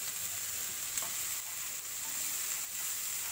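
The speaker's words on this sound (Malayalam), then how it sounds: "ഇനി ഇതൊന്ന് ചെറുതായിട്ടൊന്ന് ഇളക്കി കൊടുക്കാം" Green beans (achinga) are stirred in a hot pan with onions, giving a continuous crackling sizzle with soft scraping strokes, close and steady, no talking.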